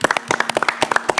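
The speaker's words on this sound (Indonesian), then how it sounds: "Tepuk tangan untuk Hagi" A small studio audience claps during a televised Indonesian campus quiz final, with sharp, distinct, fairly close handclaps in an uneven rhythm and no talking over them.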